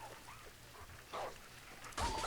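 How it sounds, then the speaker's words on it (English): A helmeted dog whimpers in Rabbids Go Home, giving faint whines and yips that end in a louder, brighter cry near the close. "Poor helmet dog."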